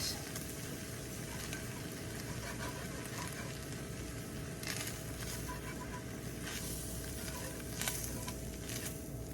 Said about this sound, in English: as I'm coating the meat, I'm also cooking the flour